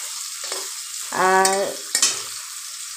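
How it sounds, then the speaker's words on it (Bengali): Potatoes fry in a pan as a side dish for khichuri. A soft sizzle sits low in the background, and a voice speaks briefly over it. "এ দেখো খিচুড়ির সাথে কিছু আলু ভাজা করে নিচ্ছি"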